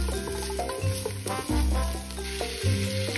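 Garlic browning in a hot pan for kare-kare, a steady close sizzle under a low background hum, with a few soft knocks from stirring and no talking.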